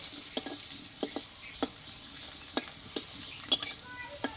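Lentil fritters frying in a pan, with scattered sharp utensil clicks and scrapes over a faint, steady sizzle, close and quiet, with no talking.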